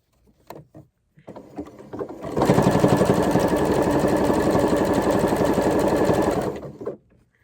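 A sewing machine starts after a few clicks and runs in a steady, loud, close whir while stitching the crew neckline of a tee shirt, then slows and stops.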